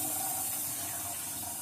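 A household tap runs steadily, a continuous hiss of flowing water filling the space without pause.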